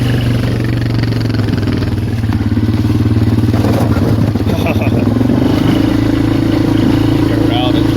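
A Polaris Magnum 425 ATV driving up an icy creek, its engine droning loud and close with a steady low hum that rises in pitch as it pushes forward, plus scattered clatter over the ice.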